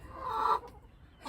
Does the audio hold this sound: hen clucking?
yes